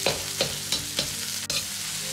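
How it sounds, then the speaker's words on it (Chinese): Minced pork is stir-fried in a wok over medium heat, a steady sizzle with rhythmic scraping strokes of the spatula about every quarter second, close and loud with no voices. "接着倒入肉末，保持中火炒出肉末里边多余的水分"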